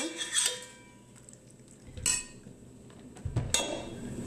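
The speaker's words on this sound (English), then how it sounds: "just give it a really nice mix before we put it in the dish" Utensils clink and scrape against a bowl while chicken mac and cheese with onions is mixed, three short bursts of stirring separated by quiet pauses, close and moderately loud, no talking.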